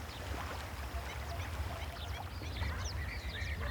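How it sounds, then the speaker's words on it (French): Ducks and geese call at a protected Moroccan wetland, with scattered quacks and honks from several birds set against a constant low rumble, moderately distant and with no voices. "Des canards cendrés, des oies, des flamants roses."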